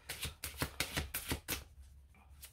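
Tarot cards are shuffled close by in a quick series of crisp riffling slaps, about six rhythmic bursts that thin out into softer card handling. There is no speech.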